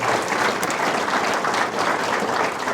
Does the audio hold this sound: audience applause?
yes